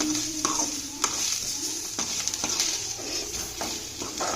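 Coconut and cashews sauté in a pan with a steady close sizzle and repeated scraping stirs, short clinks of a spoon against the pan punctuating the frying.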